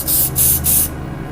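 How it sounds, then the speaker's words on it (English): Rubbing alcohol is sprayed from a spray bottle onto a set layer of homemade soap in three quick, close hissing bursts, with no voices over it. "spray it thoroughly with rubbing alcohol"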